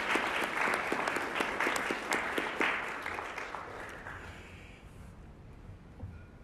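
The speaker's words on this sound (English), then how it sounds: "Now that's the time to give it applause." Audience applause at a martial arts lecture during a certification weekend, a dense wash of clapping that is loud at first and gradually thins and fades out over several seconds.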